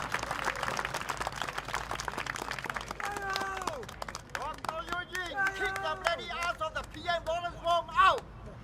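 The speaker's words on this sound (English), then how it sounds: "Can we give her a round of applause?" A crowd at an outdoor election rally in Marsiling-Yew Tee, Singapore, claps and cheers at length, a dense wash of applause with voices shouting over it, growing rougher and more excited toward the end.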